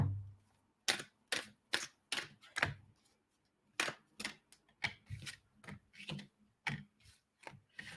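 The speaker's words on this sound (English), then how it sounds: "I'm going to draw you a card." Cards from a deck being shuffled and handled during a reading, a close, quiet run of crisp snapping flicks in quick bursts with brief pauses between them.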